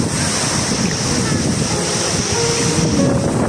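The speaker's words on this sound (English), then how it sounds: "Jama Waterfall." Jama Waterfall in Apau Nyaring, Ulu Tinjar, Baram, pours down as a loud, continuous roar of rushing water, with gusts of wind buffeting the microphone.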